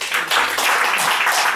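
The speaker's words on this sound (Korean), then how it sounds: "손뼉 한번 쳐주세요." A church congregation breaks into a short, dense burst of applause, many hands clapping together for about a second and a half, close and loud.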